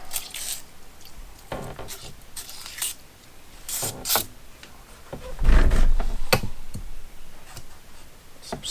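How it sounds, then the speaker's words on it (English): Several short hissing bursts of silicone aerosol spray on an outboard lower unit's spline, irregularly spaced, with some clicks and handling noises between them. "silicone spray."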